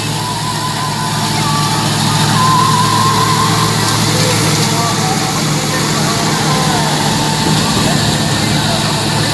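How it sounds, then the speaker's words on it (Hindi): A Massey Ferguson 385 tractor runs a wheat chopper machine in second gear in a field, making a loud, continuous low engine rumble and mechanical drone that holds steady for the whole stretch. "एम एफ 385 ते चापर मशीन के नाल दूसरे गेयर के परफॉर्मेंस तुहानू दिखाने जी"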